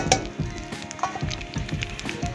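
Bay leaf and cumin tempering in oil left from frying potatoes, cooked over a wood fire in a garden house, a close crackling sizzle with scattered sharp pops and spatters.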